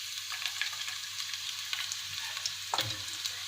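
Oil heats in a frying pan for Chicken 65, giving off a steady close hiss of sizzling and crackling with a brief louder sputter near the end.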